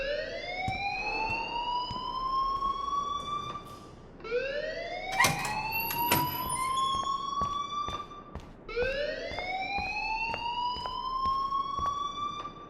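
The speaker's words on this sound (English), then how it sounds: "please turn off that alarm since that's your job" An alarm in the video game Life is Strange wails in repeated rising sweeps, three long cycles at a steady moderate level, with faint clicks and brief bursts between them.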